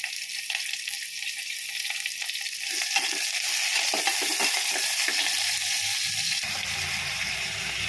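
Onion and garlic sautéing in a little oil in a pan, a steady close sizzle with occasional stirring scrapes, growing slightly louder and denser partway through, with no talking.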